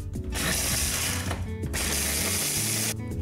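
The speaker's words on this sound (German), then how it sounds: "nehme ich dann die Gewürze wieder raus und gebe die in einen Mixer" An electric mixer grinding roasted whole spices, a loud harsh rattling whir in two long bursts separated by short pauses, close and alone without any voice.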